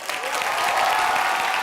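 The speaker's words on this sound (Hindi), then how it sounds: "से ज्यादा तालियां हो जाए रामू जी के लिए" Applause from the studio audience of the Hindi comedy show Comedy Nights Bachao, a short burst of loud, dense clapping with no talk over it.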